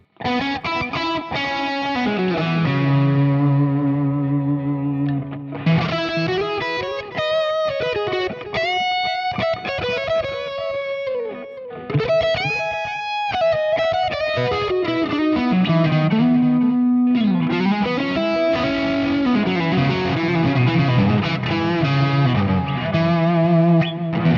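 Electric guitar through a Nux Trident multi-effect unit with a boosted, slightly distorted tone, playing sustained chords and melodic lines that ring out with echoing delay repeats and a spacious reverb tail.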